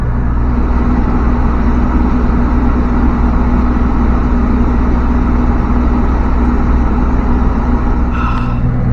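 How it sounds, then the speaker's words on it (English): An electric fan runs in a hot outdoor setting during brake work on a 2014-2015 Mitsubishi Mirage, giving a loud, steady, unbroken hum with a low tonal drone that stays level throughout, with no voices. "Sorry about the fan noise"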